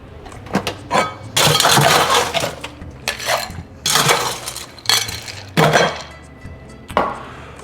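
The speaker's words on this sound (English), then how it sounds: "Add ice." Ice cubes clatter and clink into a glass for a Revolver cocktail, several bright bursts of tumbling ice in quick succession, close and loud.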